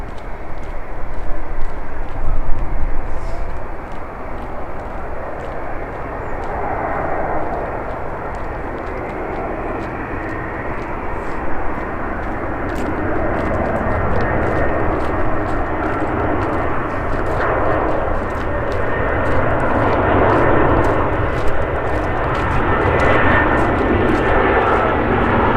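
A Lufthansa airliner passes over Manchester Airport with a loud, sustained engine roar that swells early, eases slightly, then builds again and holds, with a voice occasionally heard faintly beneath.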